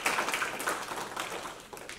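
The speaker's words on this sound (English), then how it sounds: "Let's give her a round of applause" An audience claps at a talk on canine epilepsy, a brisk patter of many hands close by that thins slightly toward the end, with no voices over it.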